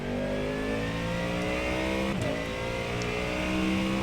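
A Ford GT3 Mustang V8 race car engine in the iRacing video game revs hard and continuously, a loud, steady mechanical roar with rising pitch, no voices over it.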